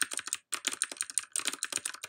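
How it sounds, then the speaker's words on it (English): Fast bursts of clacky mechanical keyboard typing, close and crisp, with a brief pause before the rapid keystrokes resume. "do you hear my keyboard? I got like a clacky one."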